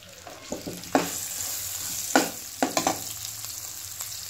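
Carrots frying in a pan of oil for chicken spaghetti, a continuous close sizzle punctuated by several sharp spatula knocks and scrapes against the pan.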